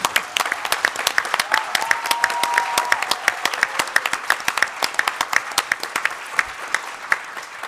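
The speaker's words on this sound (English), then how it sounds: "Can we pause for an anonymous round of applause for our drag royalty?" An audience applauds drag performers with vigorous, sustained clapping, many hands beating rapidly and unevenly, loud and close, with a brief vocal tone rising faintly over the crowd early on.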